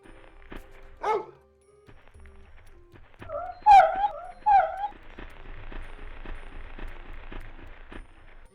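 A dog in the survival horror game Clock Tower gives a brief whine, then two sharp yelping whimpers close together, over a quiet game background hum.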